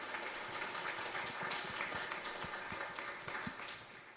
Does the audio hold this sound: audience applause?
yes